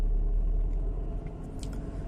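A manual-transmission car's engine revs up as it accelerates, a loud steady low rumble with a few faint higher whines near the end, no voices.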